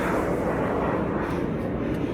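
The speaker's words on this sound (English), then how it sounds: "Again, airplanes." An airplane flies overhead above a steep uphill hiking trail in Saltwater State Park, a steady, broad engine roar that stays loud and unbroken throughout.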